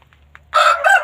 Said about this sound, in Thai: ไก่ ก็จะประมาณเนี้ยไก่ไม่ค่อยเยอะ